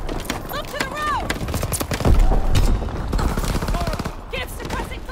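Heavy gunfire in a Call of Duty WW2 battle: dense bursts of rifle and machine-gun shots, loud and close, rattling on with mechanical clatter and a boom, as shouting voices call out over the fight.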